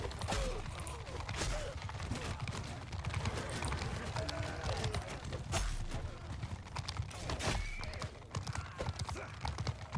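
Cavalry horses gallop in a Mount & Blade II: Bannerlord battle, a dense and continuous clatter of hoofbeats mixed with steady battlefield din, loud and close throughout.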